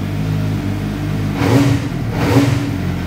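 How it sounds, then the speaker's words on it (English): A CFMoto 500SR motorcycle's inline-four engine idles nearby and then revs twice in quick succession, each blip swelling into a louder, smoother rising whine before settling back to a steady idle. "Ganda ng tunog ng inline 4."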